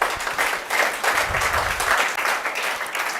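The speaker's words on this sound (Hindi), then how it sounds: "बहुत जोरदार तालियां बच्ची के लिए" An audience at a school event applauds a girl called to the stage, producing steady, dense clapping that stays even for a few seconds, moderately loud and slightly distant.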